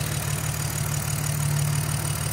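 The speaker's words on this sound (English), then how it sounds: "Those injectors are a little bit loud, or at least I think that's the injectors." A BMW E46 engine idles steadily with a low hum and a fast ticking clatter from loud fuel injectors, recorded close up in the engine bay.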